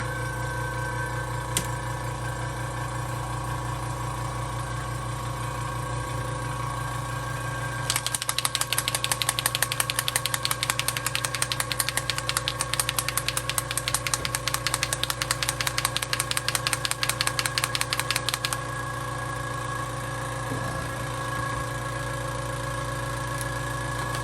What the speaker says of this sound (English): I'm going to turn the compressor on so you may hear some sound.